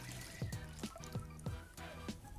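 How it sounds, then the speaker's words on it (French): Whole liquid cream and milk poured into a vanilla custard mixture for pain perdu make soft, close splashing and dripping sounds in a few quick bursts over a faint background, with no voices. "Rajoutez maintenant de la crème liquide entière,"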